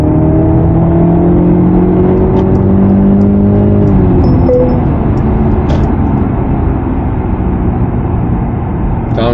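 A Mercedes C300 AMG Line drives on a road, its engine droning loudly and steadily under cabin noise, the pitch dropping midway as it downshifts, then holding a low, constant hum.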